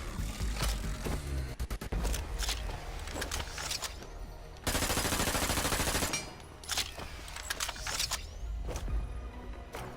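Rapid SMG gunfire from the online shooter HyperScape, bursts of fast automatic shots mixed with a loud sustained blast and game effects, steady and close throughout.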